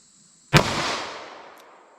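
A single sharp gunshot from a .38 Special +P Speer 158 gr LSWC-HP load fired through a 2-inch barrel, loud and close, cracking out and then decaying into a long ringing tail over about a second and a half.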